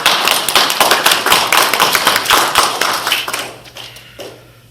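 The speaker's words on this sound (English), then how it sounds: "So big round of applause for you guys." A room of people claps loudly for local residents at a community meeting, a dense burst of hand claps that holds steady and then tapers off near the end.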